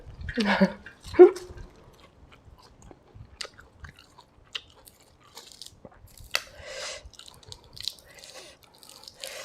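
Crunchy food being chewed close up, a few loud crisp bites early on, then quieter intermittent crunching and smacking.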